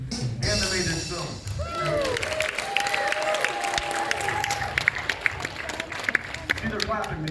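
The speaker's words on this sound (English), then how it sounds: "See, they're clapping, they did like that." Theater audience at a horror film show claps and cheers in a dense, sustained burst that fills the hall, with a voice speaking over the applause.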